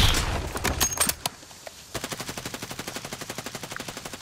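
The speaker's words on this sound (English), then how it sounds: "Shoot that recon thing out of this guy." Gunfire in Warzone on the Urzikstan map, aimed at a recon drone: a few loud scattered shots, a short pause, then a long, rapid, evenly spaced automatic burst that keeps going to the end.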